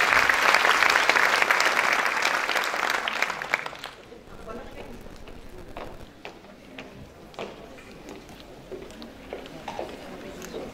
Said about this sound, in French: Mesdames et messieurs, sous vos applaudissements